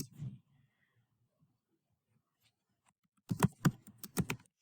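Rapid clicking keystrokes on a computer keyboard come in a short close burst near the end, after a brief murmur of speech and a long quiet gap.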